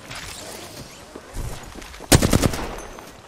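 Rapid automatic gunfire rattles out in Apex Legends, a loud close burst of closely spaced shots following quieter scattered fire, with no talk.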